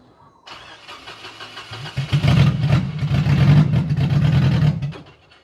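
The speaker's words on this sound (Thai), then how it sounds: "เบิ้ลแรงๆหน่อยจะได้ไม่ดับ" A Dongfeng 340 hp diesel tractor truck from 2011 starts up, then revs hard and loud from close by, holding a rough, heavy roar for several seconds before dropping back toward idle.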